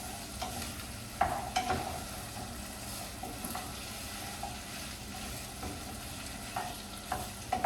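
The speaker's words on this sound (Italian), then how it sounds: "Le patate le mettiamo subito in modo che fanno un po' nell'olio." Potatoes sizzle steadily in oil with onion and celery in a pot for Italian pasta e fagioli, a continuous close frying hiss broken by a few light stirring clinks and scrapes, with no talk.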